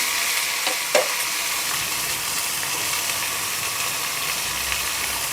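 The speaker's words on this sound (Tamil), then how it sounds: "சேர்த்து நல்லா வதக்கி விடுங்க." Tomatoes with salt are sautéed in a pan over a loud, continuous sizzle, with one brief clink of the utensil early on and otherwise an even frying hiss.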